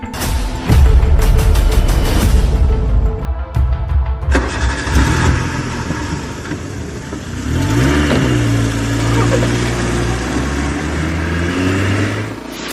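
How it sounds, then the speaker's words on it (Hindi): A car engine cranks, catches and revs loudly nearby as the car pulls out, then settles into a rising and falling drive hum that runs throughout with no talk. "पांडे जी, गाड़ी निकालिए"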